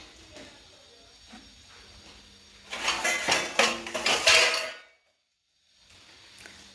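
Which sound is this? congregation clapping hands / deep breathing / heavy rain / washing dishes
washing dishes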